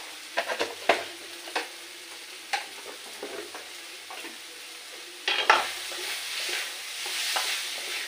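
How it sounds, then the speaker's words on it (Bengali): A spoon scrapes and stirs a spiced home-style curry in a pan as it is salted and mixed. Soft sizzling runs underneath, with clustered scraping strokes at irregular intervals. "ভালো করে মিশিয়ে দিচ্ছি"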